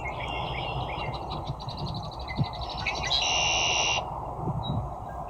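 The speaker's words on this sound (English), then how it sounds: "so that red-winged blackbird that really didn't like the heron" A red-winged blackbird calls in the open with a few buzzy, trilling notes, the last a sustained harsh buzz, moderately close over steady outdoor background noise.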